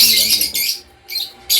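Chirps and tweets from many caged birds at a pet bird market in Malabon (Hulong Duhat), Philippines, come in loud, dense bursts separated by brief quieter gaps.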